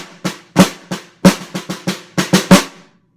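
A snare drum played alone for an 8th grade all-county audition measure, about a dozen crisp close strokes mixing loud accents and softer taps in a quick, uneven rhythm of pairs and triplets.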